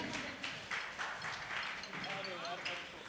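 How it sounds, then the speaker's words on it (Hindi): Applause from an audience at a Kshamavani festival program in a Digambar Jain temple in Rohini, Delhi: steady, dense clapping that fills the room, with talk running over it. "आइए तालियां बजा दें भाई।"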